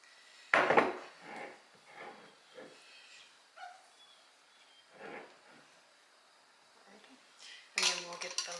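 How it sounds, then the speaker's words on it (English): A glass quart jar of honey is wiped down its sides and bottom with a washcloth. Soft intermittent rubbing comes with a few clinks and knocks, and sharper bangs land near the start and again at the end. "So I got a washcloth. I'm just going to clean the sides of the jar and the bottom of it."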